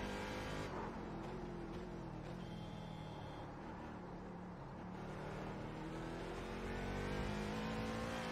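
A race car engine at Daytona in the iRacing sim, a loud sustained drone that dips slightly mid-way, then rises again as the throttle opens.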